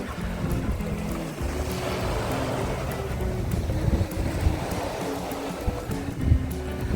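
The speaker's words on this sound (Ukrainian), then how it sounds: "Подивіться, які красиві чаєчки, як море, хвиліці." Sea waves on the Odesa shore at Fontanka in February, a steady rushing wash of surf with a low rumble underneath; no distinct gull calls stand out.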